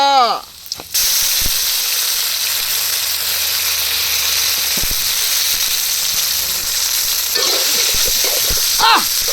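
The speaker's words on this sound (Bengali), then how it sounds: "এখন সামান্য পরিমাণ রসুন কুচি দিয়ে দিচ্ছি এখন দিয়ে দেবো আদা বাটা" Chopped garlic and ginger paste hitting hot oil with five-spice in a village-style kitchen, a loud steady sizzle and hiss filling the clip after a brief clatter, with faint stirring.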